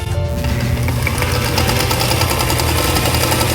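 Sewing machine stitching seams on a hexagon quilt panel, a loud continuous close-up motor hum and rapid needle rattle running steadily throughout, no talking.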